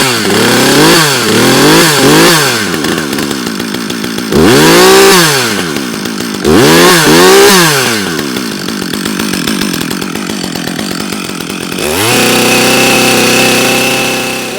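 A Husqvarna 562xp chainsaw is pulled and fires, its engine revving up and down in several loud bursts before settling into a steady, strong run close to the microphone.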